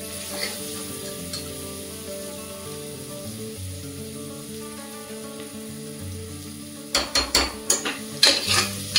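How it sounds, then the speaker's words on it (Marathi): Onion and ginger-garlic paste sautéing in a pan, a low steady sizzle for most of the time, then a run of loud scraping stirs near the end. "आता यामध्ये आपल्याला पुन्हा 1 चमचा अद्रक लसूण पेस्ट ऍड करायची आहे आणि हे चांगलं परतून घ्यायचं आहे"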